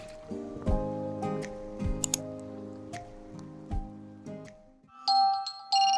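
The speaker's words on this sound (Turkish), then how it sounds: "Burada alarmım çalıyor." A repeating electronic alarm clock chime rings out in a steady pattern, followed by a brighter, higher beeping tone near the end.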